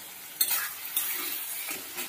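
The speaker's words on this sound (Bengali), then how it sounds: "দিয়ে আবার একটু মাখামাখি করে নেব।" Hilsa fish head stirred into taro leaves in a pan with a spatula: a few scraping clanks of metal on metal over a low, steady frying sizzle, close and quiet.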